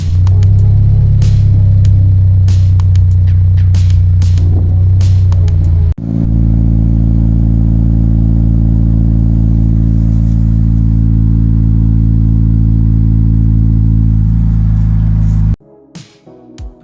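A Toyota GT86-type sports car with an aftermarket exhaust and titanium tip idles with a deep, throaty exhaust note, then holds a loud sustained rev for several seconds before cutting off abruptly.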